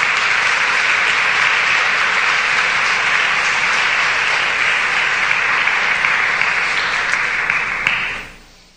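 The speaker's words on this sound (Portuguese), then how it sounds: "Dê um aplauso ao Senhor por esta verdade." A church congregation applauding together, a loud, dense, sustained roar of clapping that holds steady for about eight seconds before quickly dying away, no talking over it.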